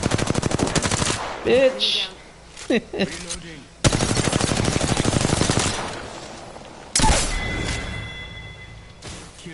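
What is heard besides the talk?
gunfire in Apex Legends video game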